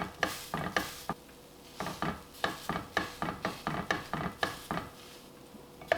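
Sweet potato being mashed flat with a spatula in a hot skillet: a steady series of sharp scraping, pressing taps of the spatula against the pan, repeated in an uneven rhythm, close and clear with no talking.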